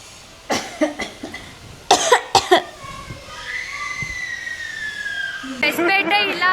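A person coughs on request, giving several sharp coughs in two quick bursts close to the microphone, followed by a high whistling tone and then a voice.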